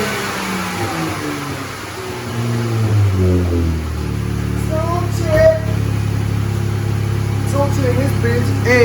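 A 2016 Dodge Charger engine cranks and catches, climbing into a loud, steady running roar close up, with a few brief higher tones and someone talking over it.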